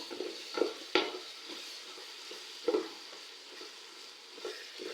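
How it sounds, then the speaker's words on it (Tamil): A ladle stirs and mashes tomatoes frying in a pan for chicken biryani, giving soft sizzling with intermittent scraping knocks of metal on the pan, fairly quiet and close. "கிளறிட்டே இருக்கணும் நல்லா, இல்லைன்னா அடி பிடிச்சிக்கும்."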